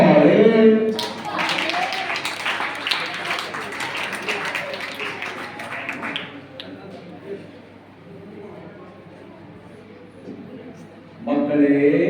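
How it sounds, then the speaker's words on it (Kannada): An audience at a ceremony claps steadily for about five seconds, a dense, moderately loud applause that fades into quiet room noise, with a voice speaking at the start and end. "ಚಪ್ಪಾಳೆ"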